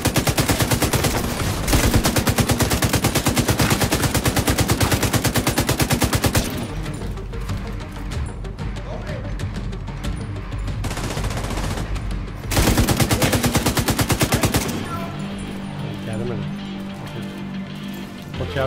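Heavy automatic gunfire from a big gun in the video game The Division 2, loud rapid bursts lasting several seconds each, separated by a stretch of quieter combat sound.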